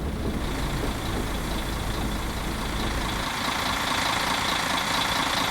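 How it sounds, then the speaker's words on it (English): A coach's engine idles in a Fernbus Simulator bus game as a steady, dense rumble with a broad hiss over it, holding even throughout and growing slightly louder in the last couple of seconds. "Engine running."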